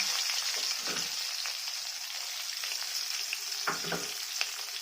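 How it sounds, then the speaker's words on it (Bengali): Onions frying in leftover fish oil with black cumin and slit green chillies, a dense, steady close sizzle with a couple of brief stirring scrapes. "মাছের তেলটা কিন্তু তুলিনি, ওই তেলেতেই দিয়ে দিচ্ছে পেঁয়াজ।"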